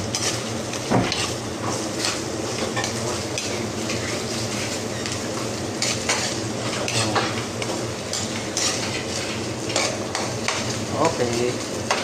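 Ginger sautéed and stirred in a pan while making ginataang eel: a steady low sizzle with frequent utensil scrapes and clinks against the pan, close and busy throughout, with a brief thud near the start.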